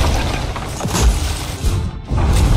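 Cannon fire from the video game Sea of Thieves slams into a ship in a series of loud, close booms and heavy thuds, with crashing impacts over a constant low rumble.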